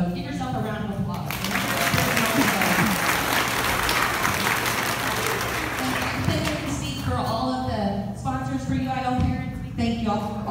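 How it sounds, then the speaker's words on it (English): A room full of people claps for themselves at an academic awards gathering, steady dense applause that starts abruptly, holds loud for several seconds, then tapers as a voice speaks over the fading claps. "So give yourself a round of applause"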